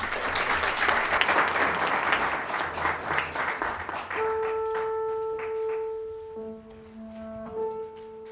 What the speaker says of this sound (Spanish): Señoras y señores, nuestro aplauso para la soprano Carolina Muñoz.